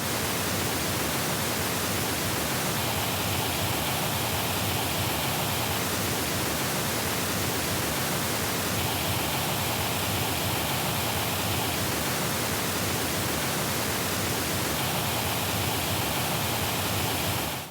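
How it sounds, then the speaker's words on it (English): High-passed pink noise test signal plays through Chesky Audio LC1 bookshelf speakers as a constant, loud, broadband hiss like rushing water, its tone shifting slightly in repeating cycles, with no voices. "So I like to high pass the pink noise"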